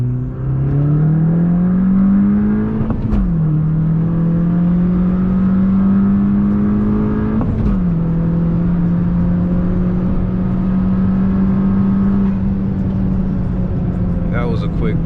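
A tuned car with a stage 1 tune pulls hard in second gear, a loud continuous engine drone rising in pitch with a brief dip at each shift, heard from inside the cabin under steady road roar.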